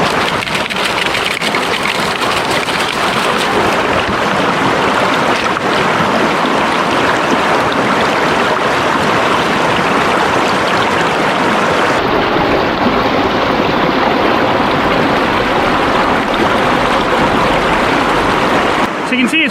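A gold sluice on a placer gold deposit runs with water from a hopper feeder. It makes a continuous loud rush of flowing water over a low engine-like hum, steady throughout.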